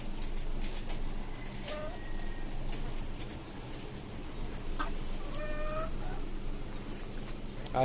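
Chickens cluck softly now and then in a rooftop cage over a constant background hum, with a few short higher calls scattered through the stretch.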